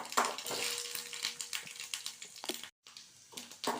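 Mustard seeds and urad dal sputter and crackle in hot sesame oil, a dense continuous sizzle with sharp popping bursts throughout and a brief silent break near the end.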